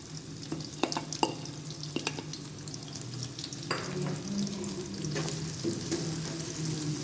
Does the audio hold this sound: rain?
no